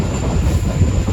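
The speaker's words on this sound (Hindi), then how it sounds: "रनफिडानी रेलवे स्टेशन पहुंच रही है हमारी ट्रेन।" A passenger train on a Pakistani line pulls into Runfidani railway station, its wheels and carriages making a steady, close, loud rumble with faint clatter throughout.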